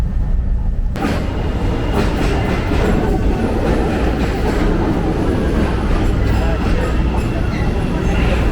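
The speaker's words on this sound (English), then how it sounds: "we're just waiting now for the next train to arrive so we can head on to the city" A subway train rumbles continuously at a station as it arrives, with steady loud rail noise and wheel clatter, and voices of people talking underneath.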